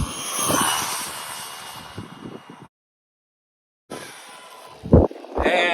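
A Laegendary Thunder RC car on a 3S LiPo whines loudly in a high-speed pass outdoors, fading out to a gap of silence, then returning with sharp bursts of motor noise.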